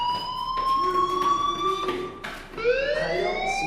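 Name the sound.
fire alarm in Life Is Strange video game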